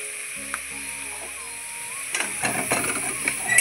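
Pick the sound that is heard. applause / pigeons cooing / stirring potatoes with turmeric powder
stirring potatoes with turmeric powder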